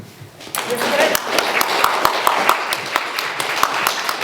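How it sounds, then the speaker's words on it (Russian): Audience at a literary almanac presentation breaking into applause after a quiet start, loud dense clapping with sharp individual claps standing out, and some voices under it. "Аплодисменты."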